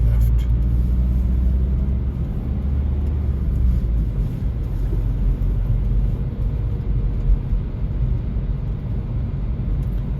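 A car engine drones steadily from inside while driving on a Chadderton test route near the ELK Mill roundabout, dropping to second gear; a constant low rumble throughout, with faint background noise.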